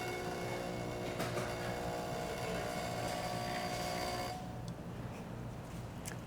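A Saeco Incanto espresso machine runs its rinse cycle, giving a steady pump hum with a faint hiss of water that carries on at even level and then drops to a quieter tone near the end. No one speaks.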